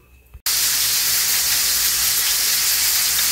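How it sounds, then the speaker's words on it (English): Hamburgers and homemade french fries sizzle on an electric griddle, a loud steady hiss that starts abruptly after a brief quiet moment and continues unbroken up close. "I've got the fries going there, and then I got the hamburgers going here on the electric griddle"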